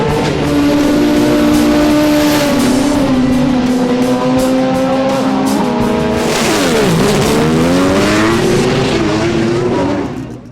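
Pro Turbo and Pro Compact drag racing cars blast down the strip on qualifying runs, engines screaming loud and steady with rising and falling pitch as they pass close, roaring alone for about ten seconds before trailing off.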